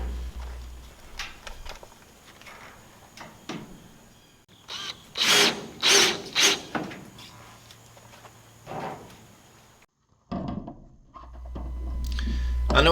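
A power drill drives screws into metal roofing panels on a sawmill shed, giving several short, loud whirring bursts in quick succession midway through, with quieter handling and scraping of the sheets before and after.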